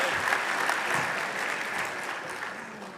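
Sustained, dense applause from a convocation audience honoring Heating, Refrigeration, and Air Conditioning Technicians graduates, steady and loud throughout with no voices on top.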